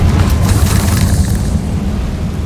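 The Confringo fire spell in the Hogwarts Legacy video game bursts with a loud, heavy boom and a rushing roar, then fades slowly into a deep rumble, with no voices.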